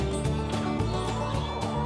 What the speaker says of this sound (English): These are silky bantams, and they're the only breed of chicken that has fur-like feathers.